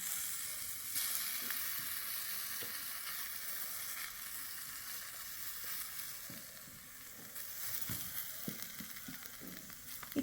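Chocolate sizzler on a very hot plate hissing and crackling steadily as ice cream and toppings are added at the corners, a continuous close sizzle with scattered pops and no voices.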